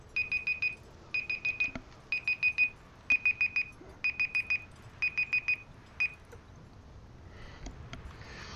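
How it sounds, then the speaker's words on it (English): Electronic alarm in the video game Far Cry 6 beeping in quick repeated bursts of four to five tones, six clear groups in a steady rhythm, then it stops and leaves faint game ambience. "Should kill the alarm."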